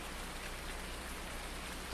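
Steady rain in the farming video game Farming Simulator 19, a dense, even hiss of falling drops filling the scene without pause and no voices.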